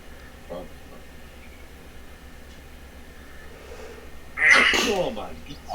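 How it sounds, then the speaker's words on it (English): One person sneezes close to the microphone, a single sharp loud burst near the end after a stretch of quiet room tone. "Sneezing like a chicken."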